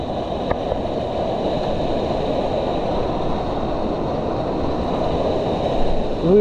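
Floodwater after a cloudburst rushing across flooded farm fields, a steady, loud, broadband roar of flowing water that holds unbroken for several seconds.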